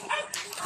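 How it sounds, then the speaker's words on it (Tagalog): A dog gives a short, quick bark or yip, a single brief burst at close range. "Ang ingay ng aso."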